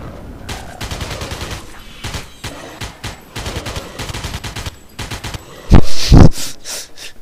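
Gunfire in the top-down shooter Alien Breed 2: Assault comes as rapid, short bursts of close, loud rattling shots, ending in a few heavier, louder blasts.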